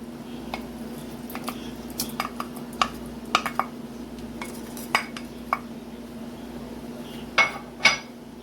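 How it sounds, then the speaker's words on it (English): A spoon stirs coconut sugarcake mixture in a pot, with scattered metallic clinks and scrapes at an uneven pace over a low steady hum, close and fairly quiet, no speech. "give that a little stir"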